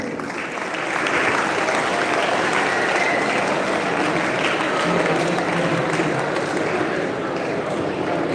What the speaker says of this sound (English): Audience, applause please.